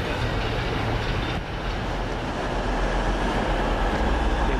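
A Class 150 diesel train rumbles loudly and continuously close by as it rolls into Huddersfield station, a dense roar of wheels and engine with no voices.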